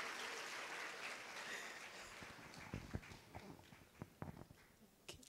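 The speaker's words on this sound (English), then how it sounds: "Yes, give her a round of applause." Applause from a conference audience at a postgraduate event, faint and scattered at first, then a few sharper, louder claps standing out near the end.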